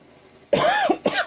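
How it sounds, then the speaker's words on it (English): Two harsh coughs close up, one longer burst followed by a shorter one, after a quiet moment. "sorry about the coughing"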